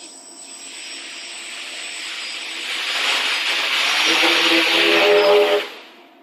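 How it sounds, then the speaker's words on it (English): A quadcopter flies with its motors running, a steady broadband whir with tonal whine that grows gradually louder and nearer before cutting off abruptly near the end; no talking. "To fly level, the quadcopter adjusts individual motor throttles based on its angular position."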